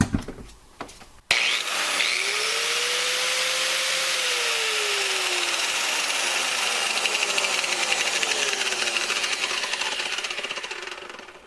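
A Harbor Freight angle grinder fitted with a diamond wheel grinds concrete in a loud, steady high-pitched whine with a gritty rasp, its pitch sagging and rising as the wheel bites, after a few brief knocks and the motor spinning up.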